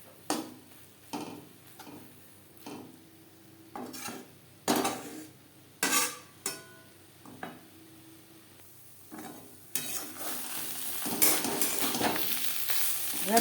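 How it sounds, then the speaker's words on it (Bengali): Ghatkol leaf paste is stirred and dried in a pan over low to medium gas flame, with a spatula scraping in sharp, regular strokes over a soft sizzle that grows denser and louder toward the end. "লো টু মিডিয়াম ফ্লেমে নাড়াচাড়া করে ড্রাই করে নেব"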